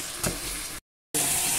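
Ginger-garlic paste frying in a pan while being stirred, a steady broadband sizzle with a brief stirring scrape, cut by a short gap of silence before the sizzling resumes loudly.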